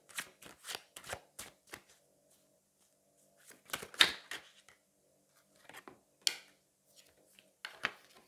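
Tarot cards are shuffled and drawn from a deck in crisp, papery bursts of rapid riffling snaps, close and clear, separated by short silent pauses.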